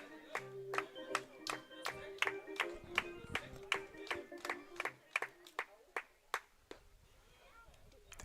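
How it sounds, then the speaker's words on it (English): A baseball crowd claps in a steady rhythm at a 2022 German league game between the Stuttgart Reds and München-Haar Disciples, about two sharp claps per second, loud at first and then thinning out, with a sustained tone underneath early on. "Crowd getting into it."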